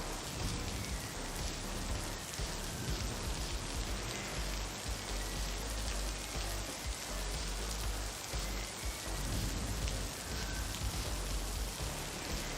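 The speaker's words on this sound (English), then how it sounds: "No, it's like a gentle rain sound." Steady, gentle rainfall patters evenly on a surface, a soft continuous hiss with no other sounds.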